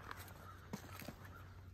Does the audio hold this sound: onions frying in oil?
no